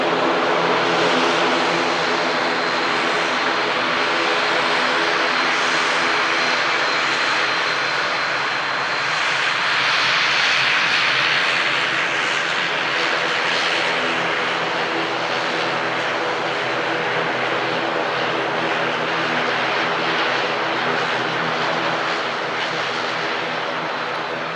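An ATR turboprop airliner arriving from the Isle of Man at Manchester Airport, its propeller engines droning steadily and fairly loud throughout, with no talk.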